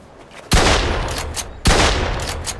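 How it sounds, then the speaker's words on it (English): Two loud shotgun blasts from the Mafia 2 video game, each a sharp crack with a long rolling tail, spaced about a second apart with no talking. "That's gotta be pretty far for a shotgun, you know?"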